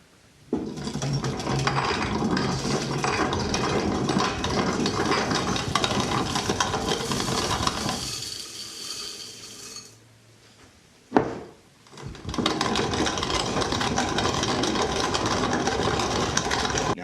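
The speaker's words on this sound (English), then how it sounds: "We've got a grist mill here. All I got to do is run this through that, and we've got cornmeal." A hand-cranked grist mill grinds dried corn into cornmeal, making a dense, rattling, crunching mechanical churn close by. The grinding runs for about eight seconds, stops briefly with a clunk, then starts again and continues steadily.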